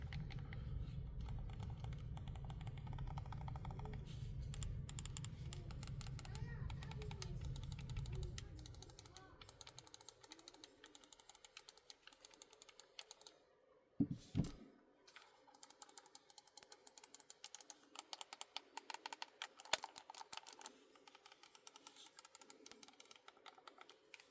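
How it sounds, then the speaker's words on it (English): Gamesir G7 Pro controller, gold edition, with its micro switch shoulder buttons clicked in quick, light, irregular bursts, fairly faint and close, over a low hum that fades after the first few seconds. "So analog triggers, micro switch shoulder buttons, nice clicky shoulder buttons"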